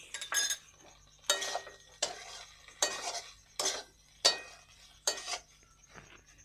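A spatula stirs and mixes a pitha filling with tomato sauce in a pan, seven or so rhythmic scraping strokes against metal with clinks, separated by brief quiet gaps over a faint low sizzle.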